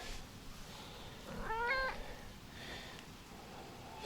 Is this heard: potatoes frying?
no